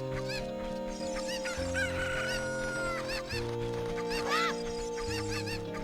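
Chicken clucks and rooster-like cackles from the cuckoos in The Legend of Zelda: Ocarina of Time 3D, repeated in short bursts over steady looping game music.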